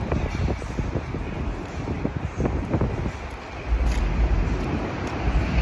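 Strong wind buffets the microphone outdoors on a street in San Francisco, a steady low rumble with gusts that swell louder toward the end, with traffic faintly underneath.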